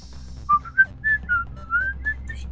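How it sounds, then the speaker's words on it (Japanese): A person whistles a short rising-and-falling tune of about eight notes in a row, close and fairly loud over a low steady background hum, during an online Among Us game session. "口笛。"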